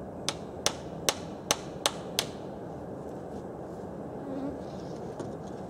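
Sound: hammering nails into plywood

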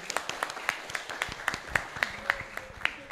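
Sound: audience applause at entrepreneurship workshop

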